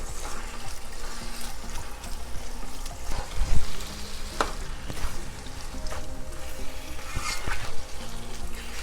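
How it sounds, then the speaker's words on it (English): Shredded cabbage mixed with canned tomato fries in a pan for Liberian fried cabbage, giving a continuous close sizzle with occasional clatters and stirring scrapes and no talking. "So once I have my tomato all mixed in with the cabbage, I will give it 5 minutes to fry"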